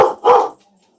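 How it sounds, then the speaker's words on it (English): A dog barks twice in quick succession, loud and close, then quiet. "Sorry about the dog."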